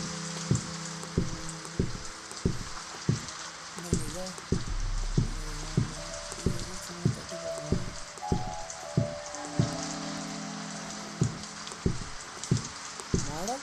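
Rain falls steadily in the Slendrina horror video game, a constant hiss under repeated low thumping beats and tones from the game.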